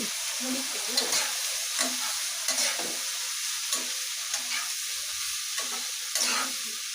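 Cabbage sizzling with other vegetables in a pan for a Chinese-style vegetable stir-fry, a steady close hiss broken by regular scraping strokes of a spatula, no talk.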